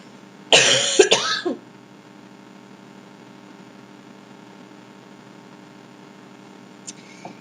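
A short burst of loud, close coughing lasting about a second, followed by near silence with a faint background hum and a brief soft sound near the end.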